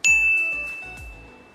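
A notification bell sound effect rings out, one bright ding followed by a few quick tinkling chimes that fade away, clear and close, with nothing else heard.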